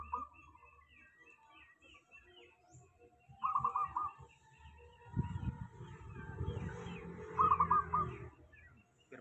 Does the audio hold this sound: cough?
no